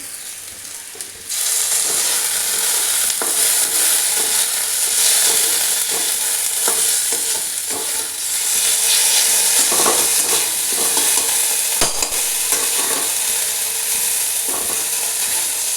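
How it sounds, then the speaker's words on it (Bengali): Ginger garlic paste fries with onions in a pan, a steady close sizzle throughout, broken by frequent small scrapes and clicks of stirring, with no talk. "1 চামচ আদা রসুনের পেস্টটা এবারে ভেজে নিচ্ছি"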